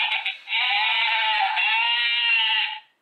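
A wireless doorbell plays a sheep-bleat melody, a synthetic wavering baa sounded twice in a row, loud and close, cutting off cleanly at the end.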